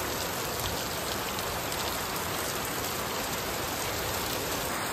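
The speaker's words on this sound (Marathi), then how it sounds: "सकाळ सकाळ चालू झाला पाऊस." Morning rain falls in a thick, constant patter, drops drumming on surfaces close by in an unbroken wash of sound, with no one speaking.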